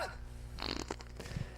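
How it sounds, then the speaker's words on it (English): A fart sound effect from the low-budget horror-comedy film Hookman, a short burst heard under film soundtrack noise with no clear talk. "Nice fart."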